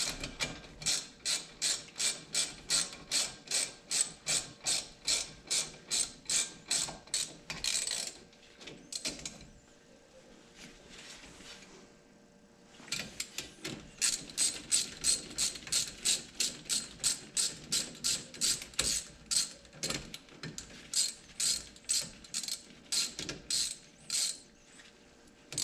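A ratchet tightens bolts during front wheel bearing and brake work on a 2011-2019 Ford Fiesta, giving long runs of fast, even clicks that pause briefly around the middle and then resume, close and crisp with no voices.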